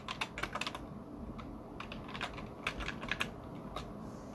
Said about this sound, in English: now we rerun the program and type in my password